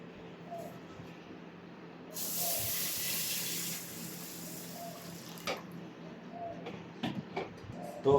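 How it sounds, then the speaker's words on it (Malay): Liquid broth poured and splashing over rice being washed in a pot during home cooking, a short hissing burst lasting a couple of seconds, followed by quieter clinks and handling noises nearby. "Kita cuci beras menggunakan air kaldu."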